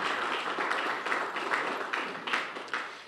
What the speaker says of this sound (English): So these are the people you really should give a loud applause for.